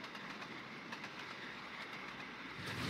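An LNER Gresley P2 steam locomotive train in the Trainz simulator rolls past at steady speed, a continuous rumble with faint rhythmic clatter that swells slightly toward the end.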